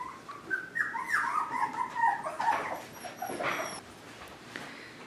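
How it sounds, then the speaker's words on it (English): A litter of F1b mini Swiss Mountain Doodle puppies, about a month old, gives soft, high whimpers and short yips in a quiet indoor setting, fairly faint and close. "Here we have Nellie and Leo's litter of F1b mini Swiss Mountain Doodles."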